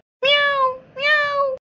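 A cat meows twice in long, drawn-out tonal cries, close and clear, with a short gap between them and a third meow just starting at the end.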